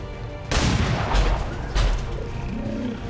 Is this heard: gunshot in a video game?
yes